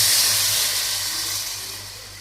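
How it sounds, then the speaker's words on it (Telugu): Water pours into a cooking pot for a small batch of biryani, a close, steady hissing rush that slowly fades. "వాటర్ వేసేద్దాం"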